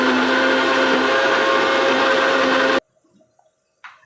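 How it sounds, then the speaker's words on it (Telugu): An electric grinder blending cumin, tomato, onion, green chili and garlic into a paste, a loud steady whirring roar that cuts off abruptly, followed by quiet with small clicks and a brief rustle. "జీలకర్ర, టమాటా, ఉల్లిపాయ, పచ్చిమిరపకాయ, వెల్లుల్లి ఇవన్నీ కలిపి ముద్ద నూరుకోవాలి."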